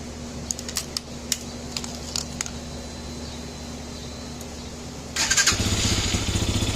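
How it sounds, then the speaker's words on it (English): A Lifan KPX 250 motorcycle sits with a faint hum and a few clicks, then its engine fires up suddenly and settles into a steady idle, close by. "Of course, she cranks right up, as usual. I'll let it run a little bit"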